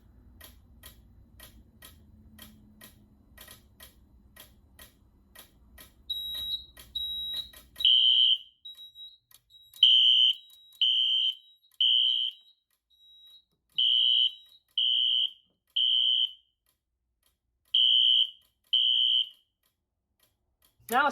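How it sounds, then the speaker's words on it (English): Ticking from a Gamewell Identiflex 610 fire alarm system gives way to loud alarm devices sounding after a pull station is activated, in repeating groups of three shrill beeps with short gaps. "The device alarm is fast, but it could take a second on the panel."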